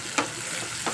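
Chopped tomato and onion, salted, fry in a pan with a brief continuous sizzle, broken by two quick stirring scrapes.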